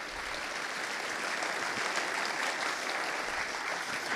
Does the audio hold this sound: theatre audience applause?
yes